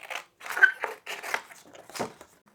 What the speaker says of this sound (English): I'm going to use the scissors on this one.